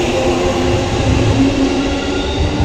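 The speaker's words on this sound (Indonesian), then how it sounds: "Ini juga ada jalur kuning ya, itu sampai nggak boleh ngelewatin soalnya bahaya, ada kereta lewat ya." A train rumbles loudly past a Japanese station platform, a steady close roar of wheels and carriages without talk.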